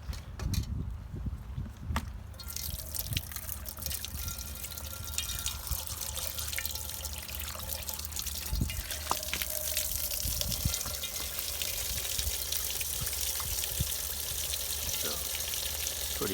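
Water rushing and splashing as it drains from a tub of live crawfish being rinsed, a steady loud hiss with occasional sloshes and drips, close and continuous.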